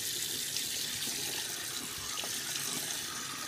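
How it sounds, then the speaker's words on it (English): Tap water runs continuously into a sink to rinse it out after a guinea pig bath, a steady splashing hiss heard close up with no talking. "Rinse out the sink."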